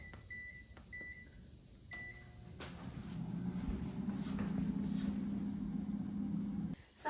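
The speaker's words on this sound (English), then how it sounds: "now let me put the air fryer basket in the air fryer" An air fryer cooking chicken skewers at 400 degrees Fahrenheit, starting with a few clicks and knocks as the basket goes in, then settling into a steady whirring fan hum with a low drone, alone and fairly close.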